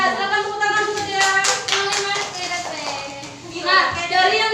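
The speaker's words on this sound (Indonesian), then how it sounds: "Silakan tepuk tangan dulu Dea." Fifth-grade students in a classroom clap for a classmate, giving a short burst of scattered hand claps mixed with children's voices talking.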